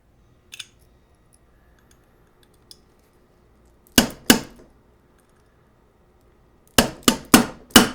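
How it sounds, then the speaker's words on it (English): An Allen key used as a punch is hammered into a brass P320 grip, giving sharp metallic strikes: two near the middle, then four quick taps at the end, with quiet gaps between. "I wonder how loud this hammering is going to be"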